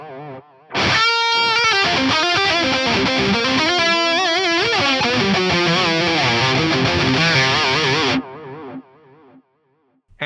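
Distorted electric guitar through the STL Meridian 65 plugin with a 600 ms digital delay, played loud and sustained for about seven seconds, its repeats smearing into a thick modulated wash before cutting off to quiet tails.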